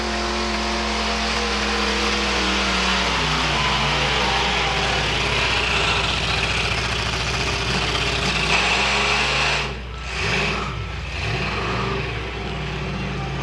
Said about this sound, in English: Engine breaking down a bit for Bill.